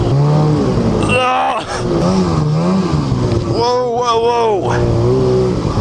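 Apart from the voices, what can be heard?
snowmobile engine revving, 340 Whiplash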